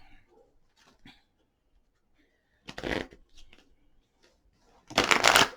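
An oracle card deck is shuffled by hand in two loud, close riffling bursts separated by quiet pauses, with faint rustles and handling noises between them.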